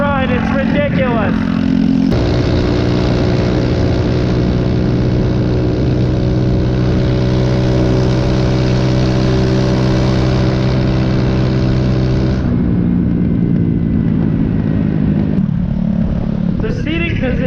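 Straight-piped 150cc Chinese scooter ridden on mountain roads, its loud buzzing exhaust climbing and holding pitch as it accelerates, then easing off, heard close with a rider talking over it at times.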